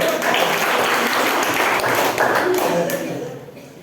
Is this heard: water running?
no